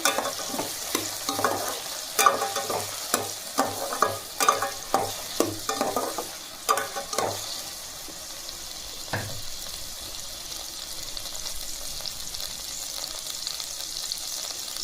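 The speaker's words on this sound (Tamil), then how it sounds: "தக்காளி நல்லா வதங்கட்டும்." Tomatoes sauté in a pan for pea curry, with busy stirring clatter and scraping over a crackling sizzle for several seconds, then a quieter steady frying hiss on its own.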